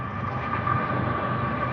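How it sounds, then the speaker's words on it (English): A train going by makes a loud, steady, broadband rumble with a constant tonal whine, filling the short stretch without a break. "That's loud. That's a train going by."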